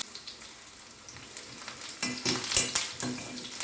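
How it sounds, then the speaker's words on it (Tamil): Black cumin seeds and garlic fry in hot oil with a low crackle that grows into a louder sizzle, broken by quick stirring scrapes against the pan, close up with no talk. "கொஞ்சமாக கருஞ்சீரகம் பூண்டு போட்டுக்கலாம்"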